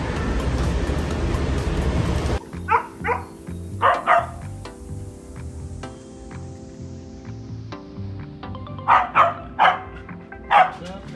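A dog barks repeatedly at close range, in short bursts of two or three spread across several seconds, after a stretch of loud broad noise at the start.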